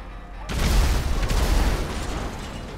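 A grenade blast in Grand Theft Auto Online: after a brief quiet start, a loud, close explosion bursts in with a heavy low-end boom that rumbles and decays slowly over the following seconds.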